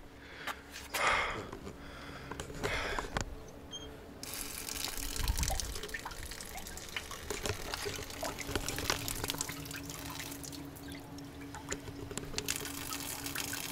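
Steady water rushing from a tap in the ruins of Pompeii fills the clip, a continuous broadband splash with a few brief knocks and sniffs near the start.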